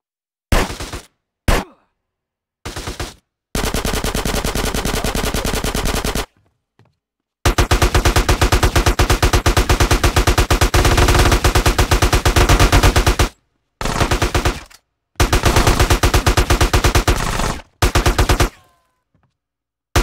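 Loud video game gunfire in GTA San Andreas: sharp single shots, then long sustained bursts of rapid automatic fire separated by brief silences, close and harsh.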